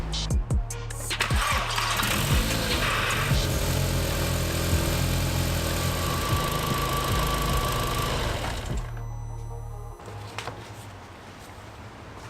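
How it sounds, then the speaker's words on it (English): Volkswagen MK4 GTI engine idling with the coolant cap off after a coolant change, a steady close rumble with a few clicks at the start that drops off sharply near the end. "turn the car on and let it idle without the cap, and we'll just let it do its thing"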